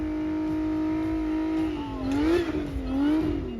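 A car engine revs hard at Horsepower Hill during a car show event, a steady droning note that climbs and wavers through several throttle blips, loud and close with no one speaking.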